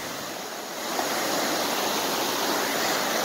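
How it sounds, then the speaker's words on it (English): A river runs high and roaring, a dense, continuous broadband rush of water close by that swells slightly after the first second and stays steady, with no voices. "Oh my gosh, look at the river. She is roaring."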